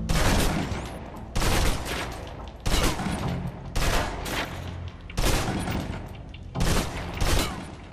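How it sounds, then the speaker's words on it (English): Submachine gun in the Xbox 360 game Alpha Protocol, emptied in six loud, close bursts of rapid automatic fire, each about half a second long and separated by short pauses with echoing tails. "Now, let's move on to the submachine gun. Now let's empty the clip."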